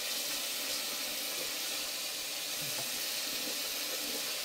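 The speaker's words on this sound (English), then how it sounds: "and then you're gonna make sure you wash real good." Tap water runs steadily and close by at a sink while a face is washed with a powder cleanser, a continuous broadband splashing hiss with no talking.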